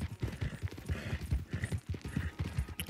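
Horse hooves clip-clop in Red Dead Redemption 2, a steady galloping rhythm of dull thuds running the whole time, close and fairly loud.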